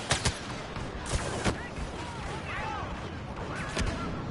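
Blaster and gunfire from a Star Wars Battlefront match, several sharp shots in quick bursts near the start and again toward the end, with whooshing effects in between.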